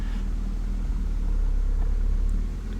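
A Ford Puma 1.7 engine idles with a steady low rumble, rising slightly as the car pulls away, fairly close and continuous with no talking.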